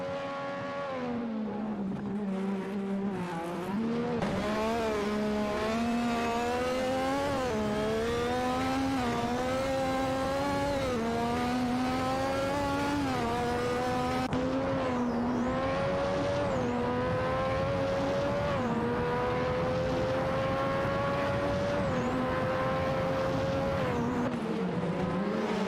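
Race cars in an AI-driven racing video game, engines revving and climbing through gears in overlapping rising whines, sustained and fairly loud with repeated shifts and passes, no talk.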